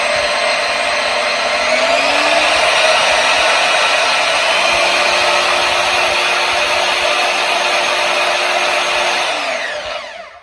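A Bauer band saw running at its fast speed whines loudly and steadily, a dense mechanical roar that holds for several seconds before winding down at the end.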